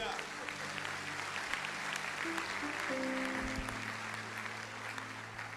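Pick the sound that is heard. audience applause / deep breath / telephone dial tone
audience applause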